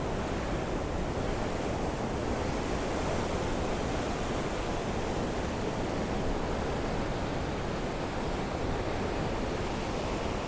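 Chenab river water rushing through the open gates of Head Qadirabad barrage, a loud, steady broadband roar like heavy surf that never lets up, with wind buffeting the microphone.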